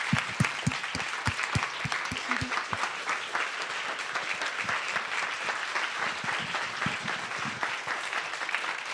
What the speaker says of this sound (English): I'd love to give them a big round of applause.